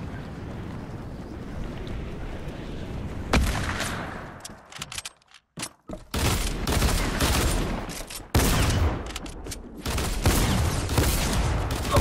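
Shotgun fire in a Fortnite-style creative-mode video game, loud dense bursts of blasts in rapid clusters separated by short gaps, over a constant rushing background, with no talk.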